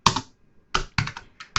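Keys clack on a computer keyboard in short, crisp bursts of a few strokes each, close and clear, separated by brief pauses.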